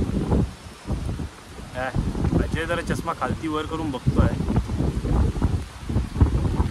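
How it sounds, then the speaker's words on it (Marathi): Strong wind blows outdoors during a pre-wedding photo shoot, a steady low rumble buffeting the microphone throughout while people chat nearby. "वारा पण भरपूर सुटलेला आहे."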